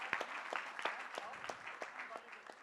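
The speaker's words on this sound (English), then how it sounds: "Round of applause for him." Scattered applause from a quiz audience for a contestant's correct answer, a handful of distinct, fairly close claps spaced irregularly, moderately quiet, with a voice talking over them.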